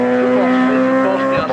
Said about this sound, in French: Nicole, parce que là le moteur ça craque